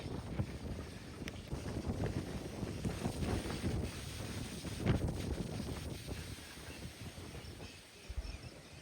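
Strong, gusting wind roars across the microphone throughout, with a dense low rumble and buffeting surges; no voices.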